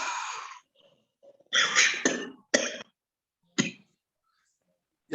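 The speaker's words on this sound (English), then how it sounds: "if you are coughing, there is some buildup of phlegm" Someone coughs repeatedly during a yogic huffing lung-cleansing breathing exercise. There are several harsh, close bursts: an opening exhalation, a cluster of coughs, then single sharp coughs separated by silence.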